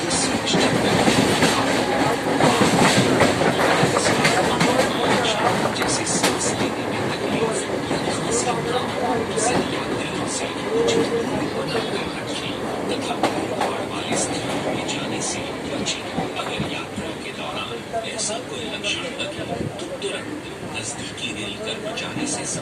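A Mumbai harbour line commuter train runs on its rails between Wadala and Kurla, giving a loud, continuous rumble with steady wheel clatter for the whole stretch, and voices murmur faintly in the background.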